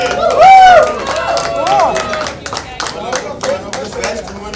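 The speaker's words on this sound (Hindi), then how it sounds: "जोरदार तालियां दोनों के लिए" Guests clap for a couple at a birthday party, a crowd of hands beating in quick, uneven bursts close by, mixed with loud cheering, whoops and excited chatter throughout.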